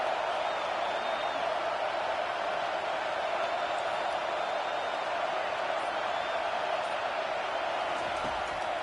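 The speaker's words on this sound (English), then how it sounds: "Decibels rising as the crowd gets behind this defense on 3rd down." Stadium crowd at a football game roaring steadily for the defense on third down, a dense, sustained wall of cheering noise that holds level throughout without breaks.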